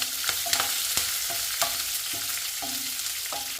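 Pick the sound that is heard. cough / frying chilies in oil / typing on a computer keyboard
frying chilies in oil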